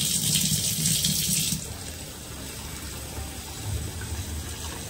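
Water runs steadily from a kitchen tap for about one and a half seconds, close by, then shuts off. A softer, lower flow continues afterward.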